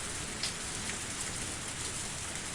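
Steady rain falls through a forest in a visual novel game, a dense, even hiss of drops on leaves and ground that holds at a constant level with no voices.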